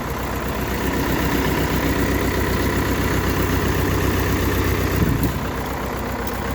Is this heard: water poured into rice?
no